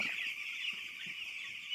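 Chicks on a poultry farm, some of them weak, give a faint, continuous chorus of high peeping with a few soft low thuds beneath.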